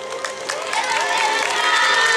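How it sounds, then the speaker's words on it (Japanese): A crowd at an outdoor yosakoi dance parade during a Japanese summer festival claps and cheers in a dense, steady wash of applause that grows slightly louder toward the end. "たくさんの拍手いただきました"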